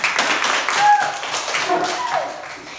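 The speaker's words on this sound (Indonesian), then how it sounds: "Tepuk tangan untuk semua" An audience claps during a community service program session, a burst of scattered, fairly loud hand claps with distinct taps that thin out gradually, with voices talking over it.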